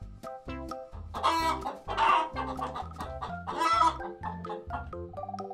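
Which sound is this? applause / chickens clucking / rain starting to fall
chickens clucking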